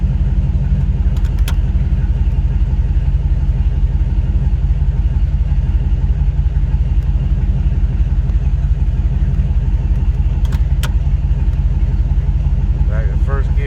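A small-block Chevy V8 swapped into an S10 truck idles loudly and steadily, a continuous deep rumble throughout while the transmission is shifted through its gears, with a few faint clicks over the engine.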